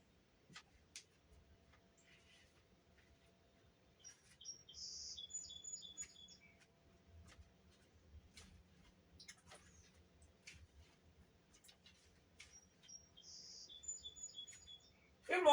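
Morning birds chirp in short, high, scattered bursts with quiet gaps between, sounding moderately distant over a faint low background rumble, no talking.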